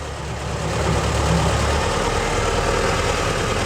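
Tractor engine running to power a baler in a field, a loud, steady, close low rumble with no breaks.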